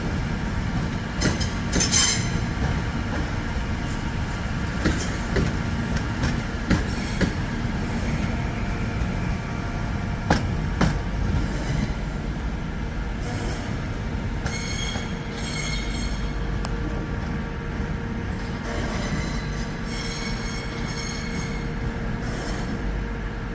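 A train pulls out of Birmingham New Street station on the West Coast Main Line, with steady loud rumble, wheel squeal and clattering rail joints continuing throughout, no voices.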